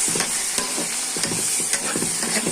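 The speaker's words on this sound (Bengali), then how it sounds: "এই লেজটাও একটু ভেজে নিচ্ছি হালকা করে।" A fish tail lightly frying in a pan with garlic, onion and green chili, sizzling steadily while a utensil stirs and scrapes in a loose, repeated rhythm, close and alone.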